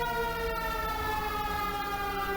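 A fire engine siren in the game GTA 5 wails steadily at moderate distance, a continuous tonal sound over a constant background hum.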